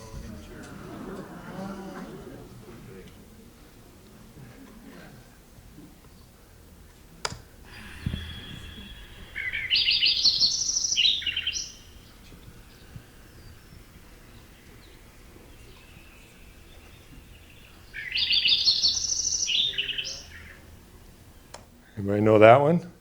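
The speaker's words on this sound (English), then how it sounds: "That's a Lincoln sparrow," Lincoln's sparrow song recorded outside a house, heard as two bright, bubbly trilled phrases several seconds apart, with soft clicks and a low rumble between them and a brief louder burst at the end.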